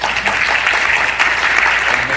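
An audience claps steadily to welcome speakers onto a conference stage at a clinical healthcare IT event, a dense, even wash of applause that holds at full volume throughout with no voices on top.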